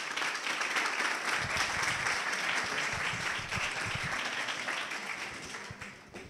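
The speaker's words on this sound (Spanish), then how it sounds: "Un aplauso para ellos." An audience at a PechaKucha Night science talk event in Salamanca applauds steadily, a dense wash of clapping that holds for several seconds and then starts to taper off near the end.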